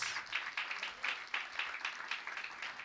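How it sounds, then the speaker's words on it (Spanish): A church congregation claps during a prayer and miracles service, a faint but steady patter of many hands with rising and falling bursts throughout. "Dale palmas si lo crees."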